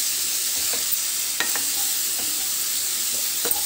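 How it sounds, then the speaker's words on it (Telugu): Boiled cauliflower, beans, carrot and potato pieces fry with masala in a pan, giving a steady sizzle with occasional scrapes and clinks as they are stirred. "ఇలా కూరగాయ ముక్కలన్నీ ఉడికించి వేసుకున్న తర్వాత 2 నిమిషాలు చక్కగా వేయించుకోవాలి."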